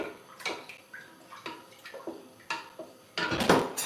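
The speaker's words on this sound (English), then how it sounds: "I'm gonna stir it up." Stirring food in a pot while cooking Vietnamese dishes at home: soft, irregular clinks and scrapes of a utensil against the pot, fairly quiet, with a slightly louder clatter at the end.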